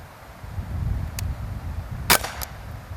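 An air pistol fires a single sharp, brief crack against a quiet room background, with a fainter click just before it and a small tick just after.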